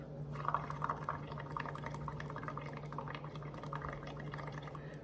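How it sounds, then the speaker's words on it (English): Air blown through a straw into a paint and bubble mixture makes a steady bubbling, gurgling burble that runs continuously and close throughout. "now I'm blowing out and blowing those bubbles"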